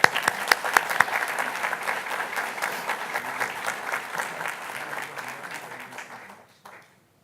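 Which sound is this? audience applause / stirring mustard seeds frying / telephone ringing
audience applause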